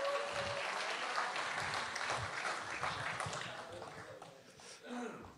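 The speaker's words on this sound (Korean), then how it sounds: "박수 한번 보내주십시오." Audience applause at a Democratic Party cutoff meeting hall, a dense wash of clapping that carries on steadily with voices mixed in and a brief tone near the start.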